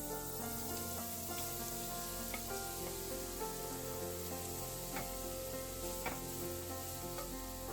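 Scraped carrots fry in ghee in a pan for carrot halwa, a steady close sizzle with scattered stirring scrapes and small pops throughout, with no talking.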